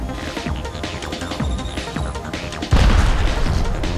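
An Arc Star grenade detonates in Apex Legends Mobile, a sudden loud burst that follows a stretch of muffled game noise and leaves a sustained, crackling rumble.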